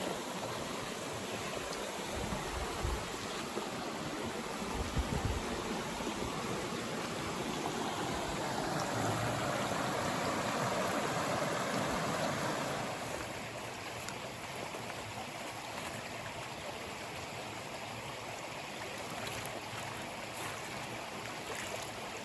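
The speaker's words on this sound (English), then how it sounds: "Now I am at Haymeadow Creek. A nice little footbridge here." Haymeadow Creek flows steadily beneath a small footbridge on a wooded trail in Michigan's Upper Peninsula, a continuous soft rushing and gurgling of water, close by and moderately quiet, with a slightly louder surge midway.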